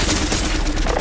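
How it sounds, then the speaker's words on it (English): Gunfire rattles in a video game, a loud, dense burst of rapid shots layered over one another for about a second. "Bro, I'm being sniped from like every different angle."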